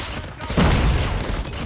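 A short burst of MX9 submachine gun fire in Call of Duty Mobile, a loud, rapid cluster of shots peaking briefly in the middle before trailing off.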